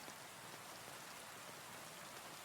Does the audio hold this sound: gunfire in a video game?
no